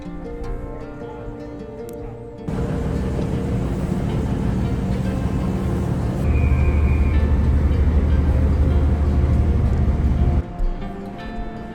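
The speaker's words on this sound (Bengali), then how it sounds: "ট্রেন চলে আসলো" A train pulls into a station in Melbourne, Australia with a rising rumble and hum, a brief high tone midway, then the noise cuts off abruptly near the end.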